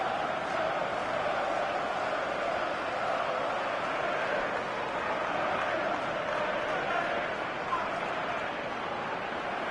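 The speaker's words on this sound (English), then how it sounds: "this crowd making their feelings known about one of the visiting players, Fletcher." A stadium crowd in the FIFA 14 video game jeers at a visiting Manchester United player, a steady, loud wash of massed voices with no breaks, the drone continuing throughout.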